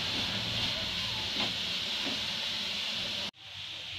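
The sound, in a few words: carrots frying in a pan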